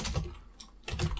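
A short burst of keystrokes on a computer keyboard typing a single word during root password recovery on a Juniper device, quick clicks close by, quiet and with a brief pause in the middle.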